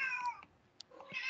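A cat meows twice in quick succession, close and fairly clear, the two drawn-out cries separated by a brief quiet gap.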